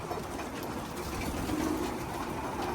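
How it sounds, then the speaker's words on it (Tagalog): Soft, low cooing of pigeons repeats steadily against a constant background hum, with no talking. "So yan mga ibon natin dito."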